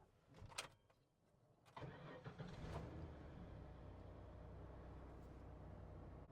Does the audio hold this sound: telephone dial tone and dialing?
no